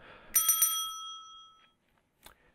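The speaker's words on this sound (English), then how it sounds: "The bell means it's time for the lightning round." A bell rings out on a radio call-in show to mark the start of the lightning round, three quick bright strikes followed by a long shimmering decay that fades to silence, then a faint brief tap.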